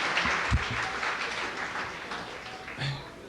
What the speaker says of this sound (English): Please let's give John Williams one round of applause.